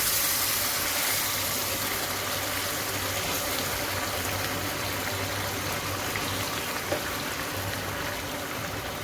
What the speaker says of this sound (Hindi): अब मैं पानी ऐड करने लगी हूँ।